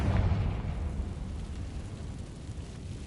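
An explosion from the Confringo spell in a Hogwarts video game booms at the start, then a deep rumble trails off into a steady, noisy roar that slowly fades.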